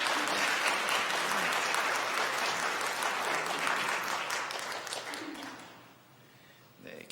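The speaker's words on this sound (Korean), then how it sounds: "여러분들 환영의 박수 부탁드리겠습니다" Church congregation applauding in welcome during a Sunday worship service, a dense, loud burst of clapping from many hands that holds steady and then fades out over several seconds.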